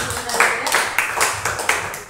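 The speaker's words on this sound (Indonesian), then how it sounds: "Baik, tepuk tangan dulu" A group of participants at a school training session claps briefly, a short burst of close, uneven hand claps.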